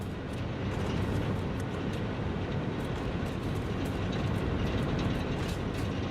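Trains in the video game Satisfactory run beneath a coal power plant, producing a steady, dense mechanical rumble that holds at an even level throughout, with no talk.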